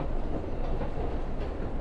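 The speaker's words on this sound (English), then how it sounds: "look at how gorgeous this train terminal is" Steady low rumble of a train moving through Grand Central Terminal in New York, a dense continuous roar of wheels and carriages with no clear breaks, heard close and fairly loud.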